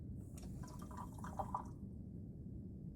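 Water fills a bottle in a precision pour device, a soft steady liquid rush with a few brief dripping, gurgling tones near the middle before it cuts off, fairly faint and without speech.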